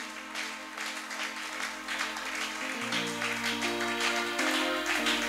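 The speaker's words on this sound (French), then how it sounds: "Acclamons très fort pour Jésus" Applause and clapping from a church congregation acclaiming Jesus during a service, a steady crowd wash over sustained organ or keyboard chords for several seconds.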